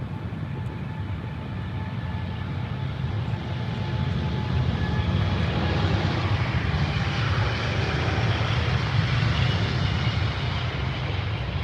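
A British Airways Boeing 787-9, on its maiden arrival, comes in to land at Heathrow on a sunny day with a broad, steady engine roar that swells slightly louder midway and holds, with no one talking.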